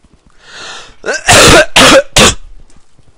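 A person coughs three times in quick succession, loud and harsh, close to the microphone, preceded by a brief throat-clearing, indoors during a gaming session with no talk.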